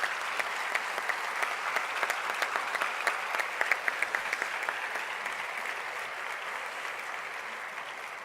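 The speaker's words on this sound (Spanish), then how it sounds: "creo que se merecen un gran aplauso en Córdoba" A congress audience in Córdoba gives a long, even round of applause at the closing ceremony, many hands clapping together in a steady wash that softens slightly toward the end.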